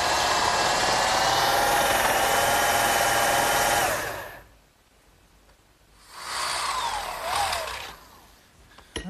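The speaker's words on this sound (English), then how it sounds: "what I've just done is drilled a hole in this metal bracket" A power drill boring a hole through a metal bracket, with a steady high whine for about four seconds, a pause, then a second shorter burst of drilling with rising pitch.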